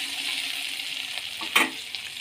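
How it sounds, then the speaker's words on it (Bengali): Ridge gourd pieces go into a pan where potato has just been fried, a soft continuous sizzle swelling into a brief louder hiss at the moment they land, then settling back down. "এবার ঝিঙেগুলো দিয়ে দেবো।"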